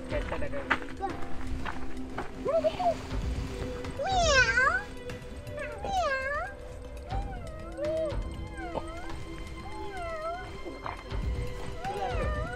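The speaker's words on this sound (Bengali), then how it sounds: "জংলি বিড়াল।" A jungle cat at an animal enclosure in Jhargram meows repeatedly in a run of rising and falling calls, fairly close, over a steady background hum.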